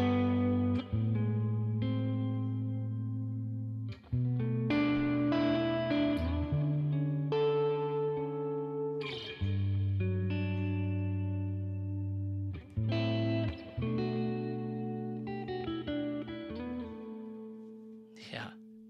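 Electric guitar played through a modulated reverb on the Neural DSP Tone King Imperial amp plugin, sustained chords and single notes ringing out with a shimmering, wavering wet tail across several phrases.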